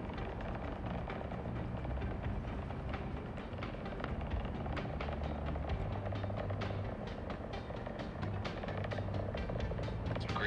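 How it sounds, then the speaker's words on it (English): Falcon 9 rocket engines at liftoff on a Starlink mission from Florida: a continuous, loud, dense roar with crackling texture and steady rumble throughout, no talk. "Engine ignition and liftoff of the Falcon 9 rocket on Starlink 6-69."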